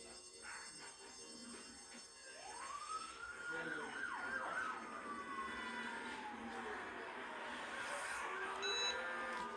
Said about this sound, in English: So there's my timer indicator that I'm done.